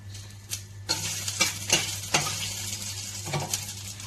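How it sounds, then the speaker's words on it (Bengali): Whole cinnamon, bay leaves and cloves sizzle in hot oil as a pan dish of jackfruit cooks, a steady close frying hiss with a few sharp stirring clinks and scrapes, no talking. "লাগিয়ে দিচ্ছি দারচিনি, তেজপাতা, লং, এগুলি সব বাসার জন্য।"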